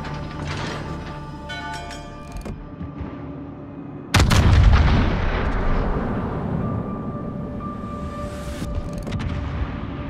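Heavy naval guns of the battleship Kremlin fire in a video game battle: a massive boom crashes in mid-clip and then rumbles and echoes away, following quieter mechanical clanks and distant thuds.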